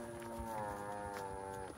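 Cattle moo in one long, drawn-out low call, close and fairly clear, with a little faint background noise at a rural fiesta on horseback.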